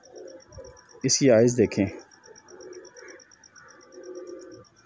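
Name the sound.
baby pigeons cooing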